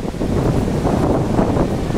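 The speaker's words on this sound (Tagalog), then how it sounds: "Grabe ba ang lakas ng alon?" Strong sea waves surging continuously at close range, a loud, dense broadband wash with heavy wind buffeting the microphone throughout and no voices.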